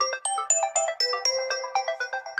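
Elegant Running ringtone plays on an Infinix Smart 10 phone, a bright, quick series of plucked melodic notes in a steady running rhythm, clear and close with nothing else heard.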